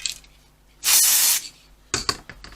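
Spray adhesive goes onto fabric for a carry cot's outer layer in one steady half-second hiss, with a few short sharp sprays puffing out afterward. It is close and fairly loud, and no one talks over it.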